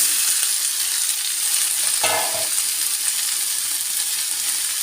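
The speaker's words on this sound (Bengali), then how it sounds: "তারপর আমি দিয়ে দিব গাজর আর হচ্ছে বরবটি।" Carrots and yardlong beans fry in a pan for a shrimp stir-fry, a steady close hiss of sizzling with one brief stirring scrape partway through, no voices.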